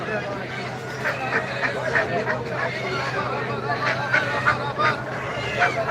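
Ducks at a crowded market in Saudi Arabia give repeated honking quacks, scattered through a steady hubbub of people talking nearby.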